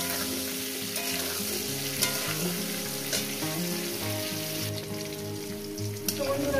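Pointed gourd sizzles steadily as it fries in a pan, a constant close crackle with occasional stirring clicks, over faint tonal background music.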